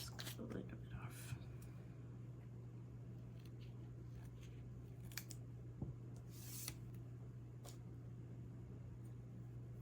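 Small scissors make a few soft, sparse snips while trimming stickers, very faint and close, over a steady low hum with hushed whispering nearby.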